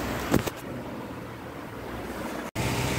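Petrol pours into the fuel tank of a Hero HF Deluxe BS6 motorcycle as a continuous, close rushing trickle. A brief knock comes early, and the flow cuts out for a moment near the end before it resumes.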